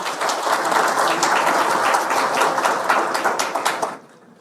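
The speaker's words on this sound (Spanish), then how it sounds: "para el que pido un aplauso" Applause from the audience at a book launch in honor of José Fran Peña Guava, a sustained dense clapping that holds steady, then tapers off and stops near the end.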